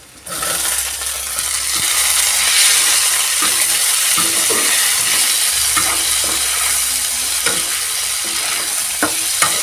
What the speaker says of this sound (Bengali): আদা বাটাটা দিয়ে আমি কিভাবে ভালো করে লাল লাল করে ভেজে নিয়েছি এরপরে দিয়ে দেব কেটে রাখা টমেটো